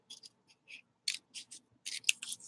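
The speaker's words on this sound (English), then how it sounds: "Let me get scissors." A few short snips of scissors cutting material to width, quiet and close in a still room, coming in irregular bursts with small pauses between cuts.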